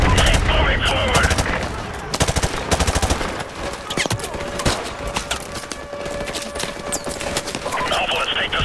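Rapid automatic gunfire and single shots in Call of Duty: Modern Warfare Remastered, loud bursts crowding the foreground amid battle noise, with shouted commands over the shooting.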